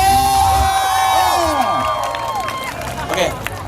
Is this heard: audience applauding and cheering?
yes